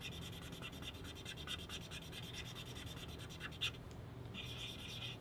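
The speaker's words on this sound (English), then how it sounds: "Kind of scrub that area." Scrubbing a water bottle with an etchant, a faint, steady rapid scratching and rubbing rhythm with a brief pause near the end, quiet and close with no voices.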